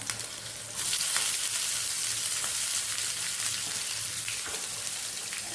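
Ginger, green chilli and onion hit hot oil in a pan for a bun dosa batter. A sudden loud sizzle bursts in after a moment and settles into a steady crackling fry with occasional stirring taps.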